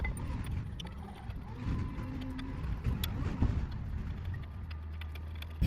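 A torque wrench tightens the front brake caliper bracket bolts on a 2020 VW Tiguan, giving soft mechanical ratcheting clicks and metallic handling noises close by, with a low background rumble and no talk.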